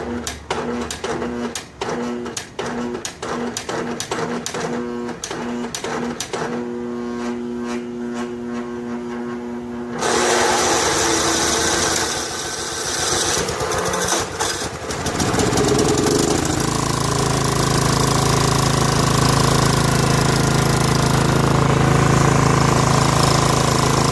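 A Snapper rear-engine riding mower, left sitting eight years, starts and runs: a steady, loud engine drone with a rapid knocking pulse at first, then a rougher, fuller roar after it revs up, continuing alone without talk.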